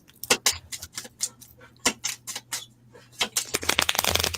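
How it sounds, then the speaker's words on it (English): Tarot cards, a small Lenormand deck, being shuffled up close: a series of crisp, separate snapping riffles, then a quick continuous flutter of cards at the end. "You can't really shuffle quietly."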